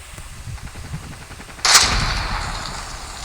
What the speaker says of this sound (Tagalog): Pistol ulit.